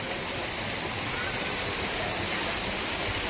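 Water fountains spray at the Gurukul temple in Surat, making a continuous, dense rush of falling water that stays close, loud and unchanging throughout.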